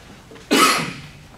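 A single loud, close cough from a person with allergies, one sharp burst that tails off within half a second, set against a quiet indoor room.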